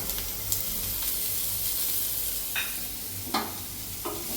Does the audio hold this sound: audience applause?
no